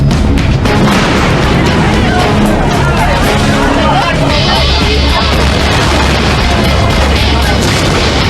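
55-gallon drums of highly flammable ethyl acetate solvent bursting into fireballs from heat and pressure, heavy booms and roaring fire over a continuous loud rumble with crowd-like babble.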